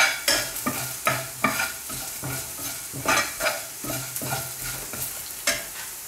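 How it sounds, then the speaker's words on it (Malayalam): Coriander seeds dry-roasting over low heat in a pan for a Malabar sambar, stirred in regular scraping strokes about every half second over a soft continuous sizzle, close and alone. "മല്ലിയാണെങ്കിൽ ഇങ്ങനെ തന്നെ വറുത്തെടുക്കണം. ഇത് ചെറിയ തീയിലിട്ട് വറുത്തെടുക്കണം."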